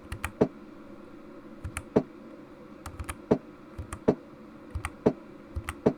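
Computer keyboard arrow keys pressed during a dice puzzle in Zero Escape: Virtue's Last Reward, sharp clicky taps arriving in small clusters roughly every second, close and distinct with no talking.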